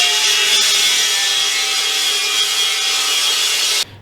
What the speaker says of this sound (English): I've just got the mounting plates cut up for the caster wheels